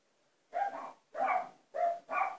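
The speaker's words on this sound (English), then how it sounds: "Sorry about my dog." A dog barks four times indoors, loud and close, in two quick pairs separated by a short pause.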